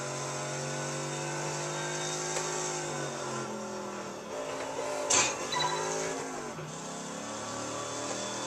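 Tyres slide in Test Drive Unlimited 2 under a long, sustained engine whine that falls and rises in pitch, with a brief sharp crunch about halfway through.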